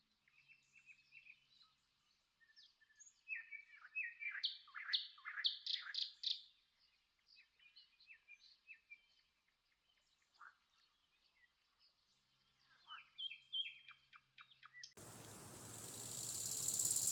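Small hummingbirds chirp in the Amazon rainforest, a run of thin, high tweets and twitters in scattered bursts, fairly close and soft against a quiet forest background, ending in a sudden wash of broadband noise.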